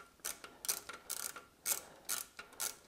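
A ratchet wrench loosening an exhaust bolt on a 2022 BMW R nineT, giving short bursts of rapid metallic clicks in an uneven rhythm, close and fairly quiet.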